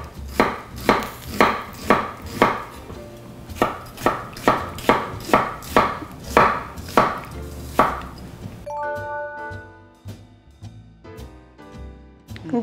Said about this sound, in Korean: 양파 반 개도 채 썰어서 같이 버무릴 겁니다.